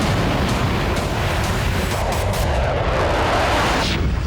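Russian artillery shelling in Ukraine produces a dense, continuous rumble of distant booms and blasts, loud and unbroken across the whole stretch, with no voices.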